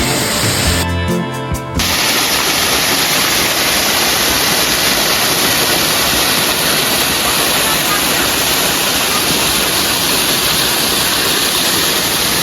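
The Jedlová waterfalls in the Jizera Mountains roar as a loud, steady rush of falling water that fills the whole scene from near by. A brief crackle interrupts it early on.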